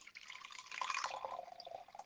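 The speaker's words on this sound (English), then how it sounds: "I want you to see how it pours. It pours just like a beer." Dog beer, a bone-broth drink, pouring steadily from a container like beer, a soft continuous trickle and splash lasting about two seconds, fairly quiet and close with no talking.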